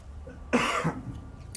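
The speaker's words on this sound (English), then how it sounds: "Once again, sorry for the cough." A single short cough, close and fairly loud, in an otherwise quiet room.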